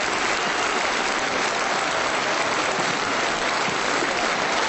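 Large crowd of about ten thousand, mostly pensioners, applauding in a sports hall at a Hungarian Socialist party rally, a steady, dense roar of clapping throughout.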